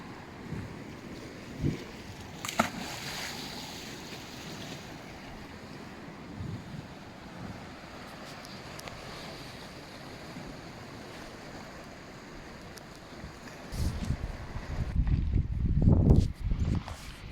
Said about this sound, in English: the wind's quietened down a little bit